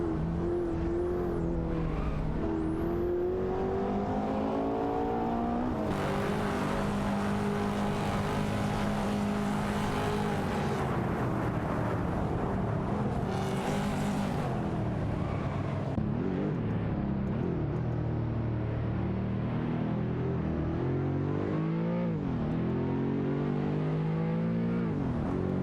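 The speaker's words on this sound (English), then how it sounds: "The battle for the 10th spot is heating up with Ferrari Portofino against Aston Martin DBS." Ferrari Portofino and Aston Martin DBS engines roar in a racing video game, steady loud revving with shifting pitch, gear changes and bursts of tire squeal, no voices over the continuous car noise.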